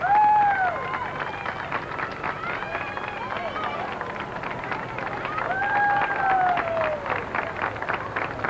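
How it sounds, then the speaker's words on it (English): Crowds in San Antonio greet Pope John Paul II in 1987, an outdoor swell of cheering and babble with whistles and shouts, some voices near and loud over a distant roar. "We're going to just let you listen in to the crowds as they greet John Paul II"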